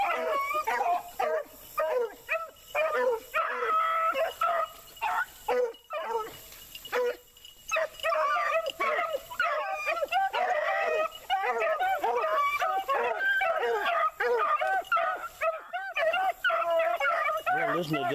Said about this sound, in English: listen to them dogs